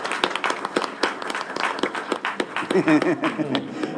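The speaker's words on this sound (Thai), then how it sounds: "ขอเชมปรบมือต้อนรับ ท่านผู้สมัครด้วยนะครับ" At a Pheu Thai party event introducing provincial candidates, a crowd gives a brief, uneven patter of clapping to welcome a candidate, with voices and a sung or spoken phrase mixed in.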